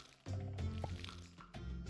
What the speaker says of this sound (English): Let me water my crops real quick.